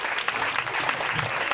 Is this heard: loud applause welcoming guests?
yes